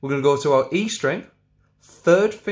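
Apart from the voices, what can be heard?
No distinct noise like a dog, phone or traffic.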